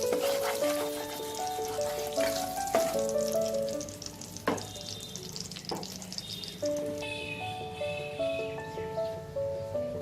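Whole spices and radhuni crackle and sizzle in hot oil for a Bengali dudh sukto, a steady close frying hiss with occasional stirring clinks and soft background music throughout.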